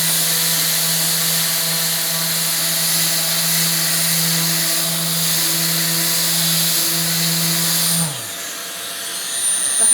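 Prep Mate 3 sanding tool with 80 grit paper running steadily under load, a loud continuous motor whine with abrasive rasp that drops off sharply near the end, leaving quieter handling noise.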